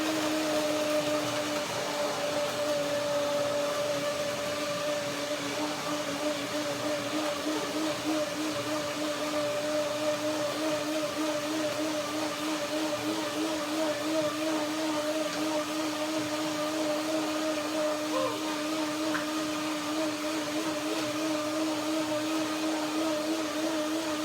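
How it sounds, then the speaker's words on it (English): A kitchen blender whirs steadily, blending nuts with water into almond cream, a continuous motor drone with a stable hum and no voices. "Blender dance."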